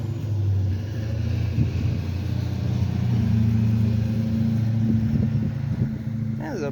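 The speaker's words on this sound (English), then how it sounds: "That is a big truck." A big truck rumbles past outdoors on a sunny day, its heavy low engine drone steady and fairly loud throughout, swelling slightly midway, with someone talking over it.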